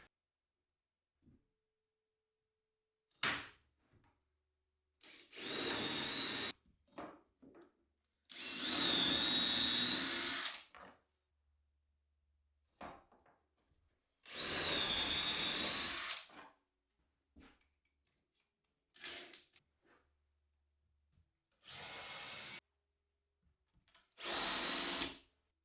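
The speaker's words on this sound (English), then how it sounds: "use my drill guide to drill some very straight holes all the way through" A power drill bores straight holes all the way through longboard wood with a drill guide, running in about six loud, close bursts of a few seconds each, separated by quiet pauses.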